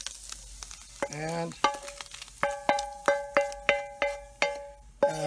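A ham spaghetti mixture goes back onto a hot pan and sizzles, with a run of regular ringing clinks and scrapes from stirring against the cookware that each fade quickly.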